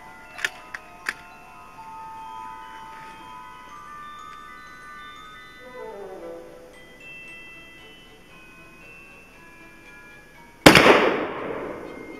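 A Mosin Nagant rifle fires an FMJ surplus round at a cast iron engine block: after a quiet stretch with a few small clicks, one sharp, loud shot cracks near the end and rings off briefly.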